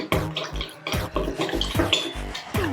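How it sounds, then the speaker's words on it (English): A spoon stirs baking soda and water in a bowl for glow-in-the-dark slime, making quick repeated scraping clinks against the container with wet sloshing, close and fairly loud. "Mix in the baking soda and the water"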